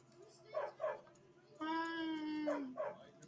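A dog in Skyrim gives short yips and a long, drawn-out whining whimper at moderate volume. The sounds sit in a quiet game scene over a low background hum.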